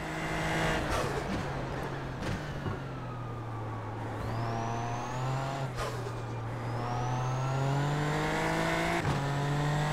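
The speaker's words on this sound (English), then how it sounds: "I love the turbo, like, wastegate noise on this thing" A Super Formula Lights turbo race car in iRacing at a wet Silverstone holds a steady loud engine drone, with rising whistling turbo tones and sharp whooshing wastegate releases between shifts, continuous and close.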